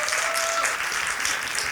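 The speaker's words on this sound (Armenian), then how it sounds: "ծափահարեք, խնդրեմ" Dense, steady applause from a stand-up comedy audience fills the room, loud and continuous throughout with no pauses and no clear voices on top.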